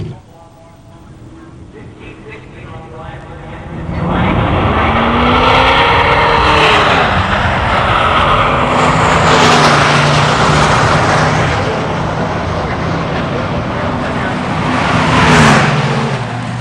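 Two Pontiac Trans Am muscle cars race at a drag strip, a silver 1979 against a 1989 Turbo, their engines roaring loud and sustained as they accelerate and rev, with an announcer talking over the noise.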